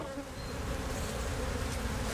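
Honeybees from a neglected swarm trap hum in a dense, steady buzz, close and continuous, with no voices.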